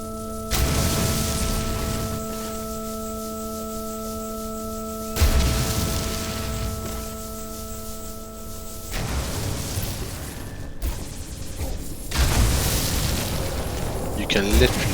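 A very powerful gun firing in a VR game on an HTC Vive Pro 2, several heavy booming shots spaced a few seconds apart, loud and close, under a steady hum with a person talking.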